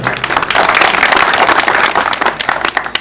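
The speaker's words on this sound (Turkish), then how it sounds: "Sayın Mehmet Yurtbaşı alkışlarınızla mikrofonu veriyorum" Crowd applause at an AKP political rally during a visit to Kılbasan, Turkey: dense, continuous clapping from many hands, loud and steady throughout, thinning slightly into scattered claps near the end, with no talk over it.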